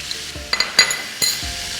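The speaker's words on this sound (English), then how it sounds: "Now I'm adding in the tomatoes." Tomatoes hit a hot pan with chili and fried ingredients, giving a soft background sizzle broken by a few sharp stirring scrapes and light clinks of utensil against the pan.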